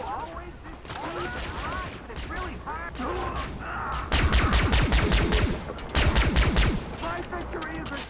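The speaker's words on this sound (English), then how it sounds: "So it's not quite the assault rifle from Aliens, but it's alright." Assault rifle fire in a shooter video game, rapid bursts of sharp automatic shots growing loud and continuous in two long volleys, mixed with game sounds and voices.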